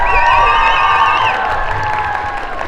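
A Lake Day awards crowd, children among them, cheers the humanitarian award winners with loud, high-pitched whoops and sustained shouts. Light clapping sits underneath, and the cheering eases off after a second or so.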